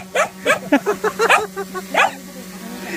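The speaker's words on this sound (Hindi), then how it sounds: "अब यहाँ पे देखो कुत्ता ना ड्रोन को देख रहा है" Dog outside a village house in the Uttarakhand hills, watching a drone: a quick run of about eight short, close yelps and barks over a steady low hum, then quiet.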